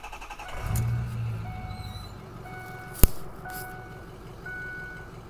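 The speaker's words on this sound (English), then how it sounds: "I'm gonna fire this truck up and we're gonna open the hood" A large Ford truck's engine runs with a steady low rumble, close by. A single sharp click cuts through midway, and faint beeping tones sit over the idle.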